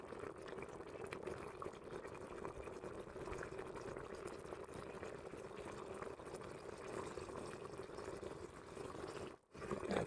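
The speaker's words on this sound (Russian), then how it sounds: "Каша варится." Porridge boiling in a pot in a village kitchen, a steady bubbling and gurgling that runs on without a break and stays moderately close, with a short dip near the end.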